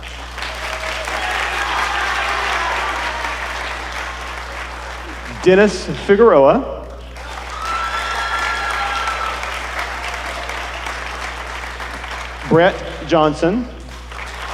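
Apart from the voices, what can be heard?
audience applause for band award winners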